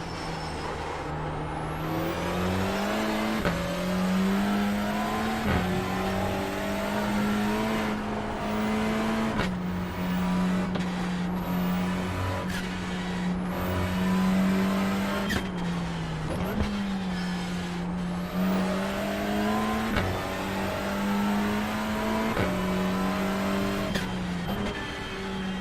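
Touring car engine from the iRacing Touring Car Challenge lapping Knockhill in reverse, a loud continuous drone rising through the gears with sharp upshifts every few seconds and brief lifts for corners, with no voices over it.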